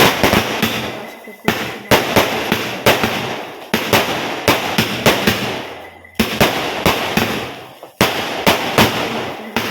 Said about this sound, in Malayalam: പിന്നെ കുറേ ചെറിയ ചെറിയ പടക്കങ്ങളാണ്